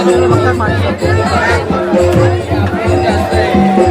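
Dense crowd chatter at a busy festival with fast-food stalls and games, many overlapping voices in a loud continuous babble close around, with nearby speech standing out from the hubbub.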